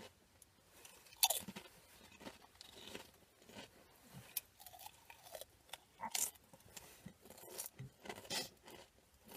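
Crunchy Nacho Cheese Doritos chewed close to the mouth, a steady run of crisp bites and crunches with brief pauses, sharper cracks standing out now and then, no talking.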